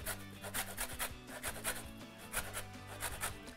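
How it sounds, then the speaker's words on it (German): A lemon is grated for zest, only the outer peel, in a vegan kitchen, with quick rhythmic rasping strokes, close and fairly quiet, repeating steadily with no talking. "Zitrone ein bisschen reiben."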